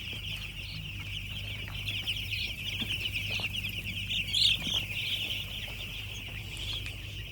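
Chickens on a village poultry farm cluck softly and sparsely, almost buried under a steady high-pitched drone and low background hum, with a slightly busier moment in the middle.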